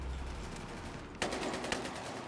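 Gunfire from an A-91 rifle in the Battlefield 3 beta video game, two sharp distant shots cracking over a faint steady background hum.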